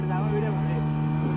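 A double-engine motorboat out on the water at Kundapura gives a steady, close droning hum with a strong low tone, holding evenly through the whole short stretch.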